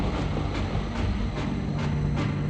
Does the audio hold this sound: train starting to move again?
yes